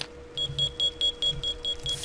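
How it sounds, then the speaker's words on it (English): A fire alarm beeps in rapid, evenly spaced high-pitched pulses, about eight in two seconds, over a low steady hum. "My fire alarm's going off."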